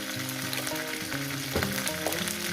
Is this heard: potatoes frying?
yes